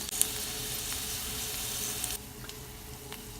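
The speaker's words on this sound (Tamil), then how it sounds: "அதே பாத்திரத்தில் பூண்டையும் போட்டு வறுத்துக்கங்க" Garlic and tamarind sauté in a pan with a moderate sizzle. The sizzle drops quieter partway through, and faint stirring taps and clicks follow.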